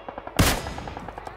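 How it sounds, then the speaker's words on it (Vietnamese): A single loud, sharp gunshot cracks out in a PUBG Mobile solo match, with a long decaying tail after some faint preceding clicks and taps. "Bắn nhau rồi"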